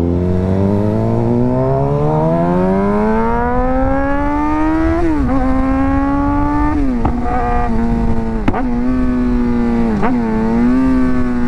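A Suzuki GSX-R 600 motorcycle engine revs hard to high RPM, its pitch climbing steadily, then holding a loud, sustained whine broken by several quick dips and recoveries as throttle blips between gears.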